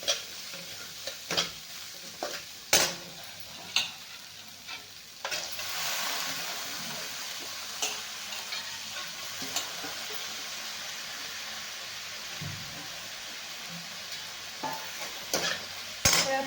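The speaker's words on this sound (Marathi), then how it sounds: "आता याला व्यवस्थित मस्त चांगलं परतून घ्यायचं आहे आपल्याला मसाल्यात" Whole masoor lentils are sautéed in masala in a pan with a steady sizzle, while a spoon stirs and scrapes the pan in irregular knocks throughout.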